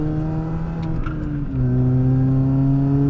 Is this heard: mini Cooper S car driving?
yes